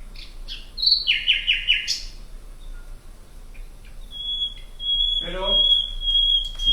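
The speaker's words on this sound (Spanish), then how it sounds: "un ruiseñor que canta solo es una canción" A nightingale sings alone, giving short bursts of whistled, rapid chirping notes followed by a long, pure, high sustained tone, clear and fairly near against a quiet background.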